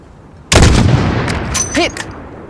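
A single sharp, loud long-range rifle shot in the Call of Duty Modern Warfare video game, cracking out with a booming tail that rolls away, followed by a brief ringing electronic chirp.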